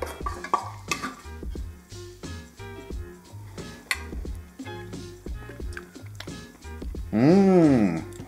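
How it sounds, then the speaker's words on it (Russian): Sauce of sesame oil and garlic stirred in a bowl, with repeated clinks and scrapes of a utensil against the dish in an irregular rhythm, close and moderately loud, ending in a brief louder burst of clatter. "Перемешиваем до однородной массы"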